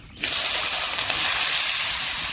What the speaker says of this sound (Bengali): চিংড়ি মাছ হালকা করে ভেজে দিয়ে তেজপাতা শুকনো লঙ্কা ফোড়ন দিয়ে দিচ্ছি বাঁশের কোয়ারগুলো দিয়ে দিচ্ছি